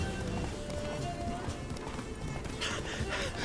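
Hoofbeats of Roach, Geralt's horse in The Witcher 3, galloping at a steady clip-clop rhythm, close and loud throughout, with an occasional snort or whinny and faint background game ambience.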